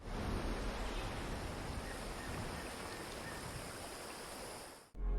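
Steady rushing river water beside a camp location in Fallout 76, a soft, even broadband flow heard alone at low level that cuts off abruptly near the end.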